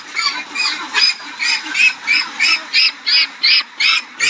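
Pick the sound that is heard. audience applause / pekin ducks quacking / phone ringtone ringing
pekin ducks quacking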